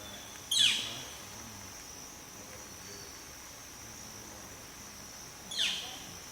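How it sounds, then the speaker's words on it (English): Two sharp, bright bird calls ring out in the woods, about five seconds apart and moderately close, over a faint steady insect drone with no talking. "we're starting to hear a bunch more of them now"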